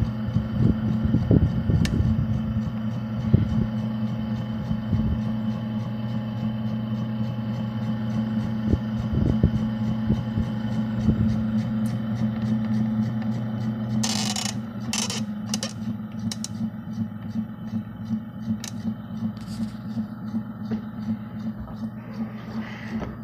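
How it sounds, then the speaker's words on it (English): Motor of a 36-inch brown Emerson friction-drive ceiling fan running with its blades removed, a steady low mechanical hum with faint rattles and a few light clicks, close and continuous. "now this is how the motor functions without the blades"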